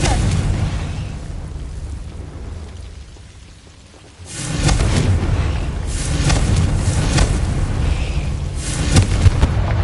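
A Hogwarts Legacy Confringo blasting spell explodes loudly after a brief lull, giving way to a sustained crackling, rain-like roar of debris with a few sharper bursts near the end.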